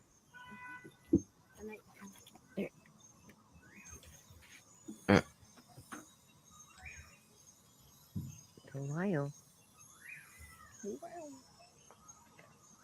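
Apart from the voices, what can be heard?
potoo bird calling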